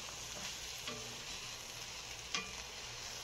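Mushrooms and onions fry in butter on a grill with a constant close sizzle, marked by a few clicks and scrapes as they are stirred, and no talk.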